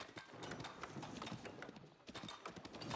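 Horse hooves clip-clopping in Age of Empires as a horseman arrives, a quick, steady patter of hoofbeats at moderate volume under a busy game background.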